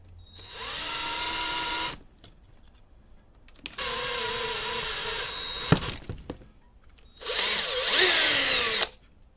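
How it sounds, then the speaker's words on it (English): A power drill bores a hole for standoffs in a plastic PC case during a Gaems G155 build, whining close up in three separate bursts with short pauses between them. "now we drill a hole for the standoffs"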